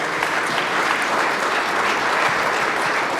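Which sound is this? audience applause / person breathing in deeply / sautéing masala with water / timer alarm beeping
audience applause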